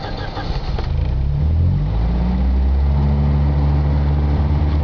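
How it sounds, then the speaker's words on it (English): A 1965 Volvo 1800S is started from cold with the choke pulled out; the engine catches after a short crank and settles into a steady, loud, low idle rumble close by. "going to start the car up from being cold"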